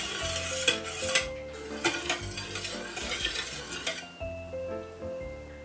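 A spoon stirs strained kaya, a coconut and egg mixture, in a bowl, giving a steady close-up swirl with scraping and occasional light clinks against the container. Background music plays underneath.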